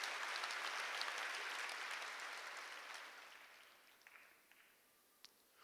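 Church congregation applause during a Korean sermon, a faint, broad patter of many hands clapping that gradually fades away, with a few isolated claps near the end.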